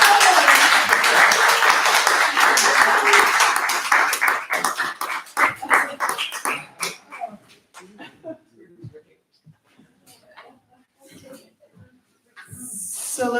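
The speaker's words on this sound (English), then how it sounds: "let's have another round of applause for our featured performers for tonight" Loud audience applause and cheering at a spoken word event in a gallery, dense clapping for several seconds that thins out into scattered claps and fades to near silence, with a brief hiss at the end.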